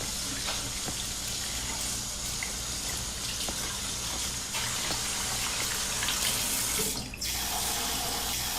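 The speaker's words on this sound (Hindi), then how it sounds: "मैंने तुम पे पानी उड़ाया।" Water pours and splashes steadily onto a person in a school setting, a continuous close gushing wash with a brief sharper splash near the end and no talk over it.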